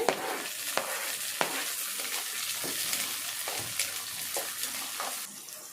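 Pieces of fish frying in oil in a pan with green chilli, onion and tomato, a steady sizzling hiss with soft stirring clicks and scrapes throughout, fairly close and alone.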